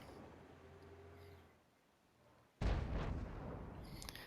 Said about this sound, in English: Now Geordie's just fired his artillery battery, so it's essentially that's landing in the Abbey itself